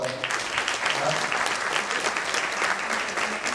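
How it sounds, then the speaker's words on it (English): Audience applause at a business storytelling session, a steady dense wash of clapping from many hands, fairly loud and sustained throughout with no break. "Can we have a round of applause for"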